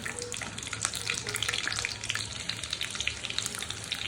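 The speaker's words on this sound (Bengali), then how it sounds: "এখন দিয়ে দিলাম আলু। আলুটা একটু ভাজবো।" Potatoes fry in hot oil with a dense, constant crackling sizzle full of fine pops, close up and steady throughout, with no voices.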